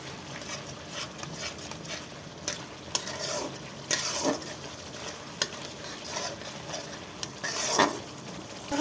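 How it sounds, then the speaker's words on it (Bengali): Spice paste for a fish curry sizzles steadily in hot oil in a pan while a spoon scrapes and stirs it, giving close, soft frying hiss with intermittent metallic clinks of utensil against pan. "মশলাটা কষিয়ে দিচ্ছি।"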